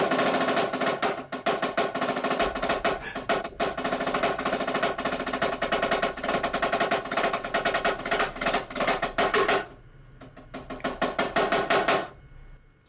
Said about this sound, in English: I go to a marching drum, a Mapex marching drum with an Evans hybrid head on it